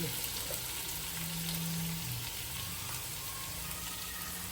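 Boiled potatoes dropped straight into hot oil, frying with a steady broadband sizzle that fills the whole clip, fairly close and continuous with no talking.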